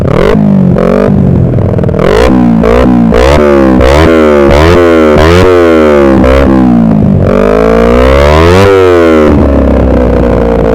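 Motorcycle with a LeoVince aftermarket exhaust is revved repeatedly in sharp throttle blips, the engine note rising and falling loudly and close, with a raspy, crackling edge and a longer sustained rev near the end.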